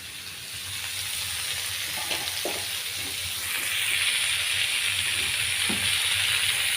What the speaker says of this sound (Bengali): এখন ওই তেলে মিষ্টি কুমড়াগুলো ভালোভাবে ভেজে দেবো।